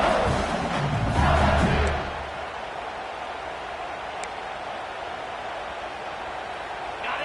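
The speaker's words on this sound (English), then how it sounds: "they are on their feet, yelling, screaming." Football stadium crowd roaring and yelling, loud and dense at first, then easing after a couple of seconds into a steady, distant wash of crowd noise with no clear talk.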